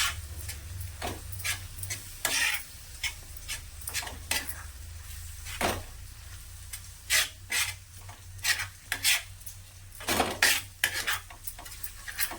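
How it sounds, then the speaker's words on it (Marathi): A spoon scrapes and clinks against a pan as besan is stirred into a frying masala for egg tava masala, in repeated close strokes over a faint sizzle. "आता हा मसाल्यामध्ये ना बेसन चांगलं मिक्स करून घ्यायचं"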